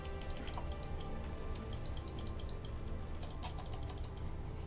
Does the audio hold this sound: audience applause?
no